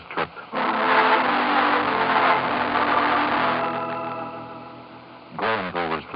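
A car engine in an old radio drama sound effect hums and drones steadily, slowly fading as it drives, with a brief burst of tonal sound returning at the end.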